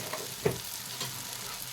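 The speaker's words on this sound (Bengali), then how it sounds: "ভালো করে মশলাটা ভেজে নেব।" Ground turmeric, chili, coriander and cumin with tomato fry in a pan for a bhola fish and eggplant curry, a soft steady sizzle with faint scraping stirs, moderately quiet and close.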